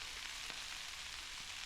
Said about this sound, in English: I want to be sure I toss this so it gets all those juices and oils, the onion, the garlic, the olive oil